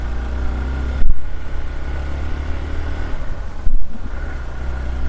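Motorbike ridden along a rough, potholed mountain road, its engine droning loud and close throughout, with two sharp thumps of jolts over bumps breaking the steady rumble.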